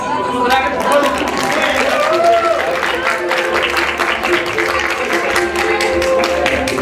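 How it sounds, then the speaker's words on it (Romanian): A restaurant ballroom audience at a christening celebration gives loud, sustained applause after a fairy-godmother performance, the clapping dense and steady with crowd chatter underneath. "Puteți însă, în cinstea mea, toți să aplaudați"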